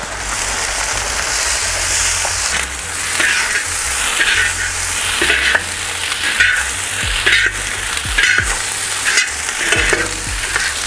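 Cooked bulgur stirred into eggplant in a hot pan, with loud continuous sizzling and repeated scraping strokes of a spoon close up, and no talking.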